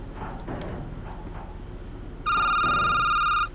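A phone rings loudly in a security-booth video game, a steady multi-tone electronic ring starting partway through and holding to the end, over low background game noise and murmur.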